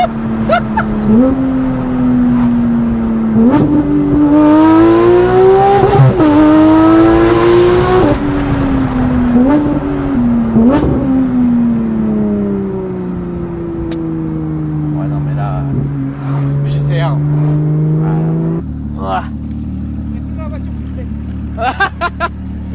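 A Porsche GT3 RS engine revs repeatedly, climbing and dropping in pitch as it accelerates, loud and close, with voices chattering faintly underneath.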